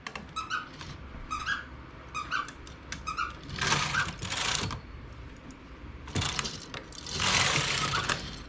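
A home knitting machine works wool in rows of ribbing without a ribber, giving repeated carriage passes with rattling, squeaking mechanical clatter in bursts and broad whooshing sweeps, fairly close and with no talk.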